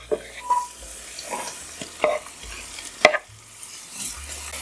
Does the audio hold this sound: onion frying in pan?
yes